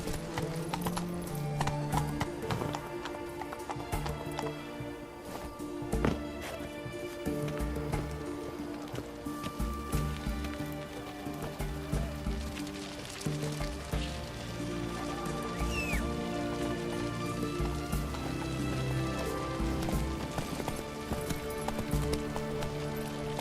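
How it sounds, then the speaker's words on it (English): Horse galloping in The Witcher 3: Wild Hunt, a continuous rhythmic clip-clop of hooves that carries on for more than twenty seconds over the game's background sounds. "Giddy up. Run, Roach."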